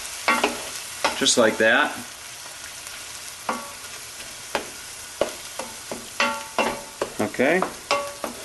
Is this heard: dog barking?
no